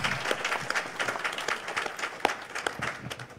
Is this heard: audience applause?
yes